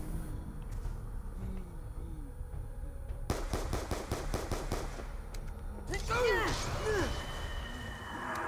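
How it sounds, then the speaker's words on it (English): A burst of rapid video game gunfire from the player's other gun, a quick run of sharp repeated shots in the middle, with whooshing game effects after it. "Maybe I ought to try my other"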